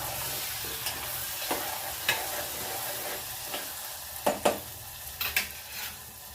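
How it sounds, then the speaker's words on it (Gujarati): Pigeon pea beans frying in ghee are stirred in a pan: a constant close sizzle with occasional sharper scraping strokes of the spoon, a cluster of them near the end, and no voices. "ઘી, અને તુવેરના દાણા એક સાથે લીધા."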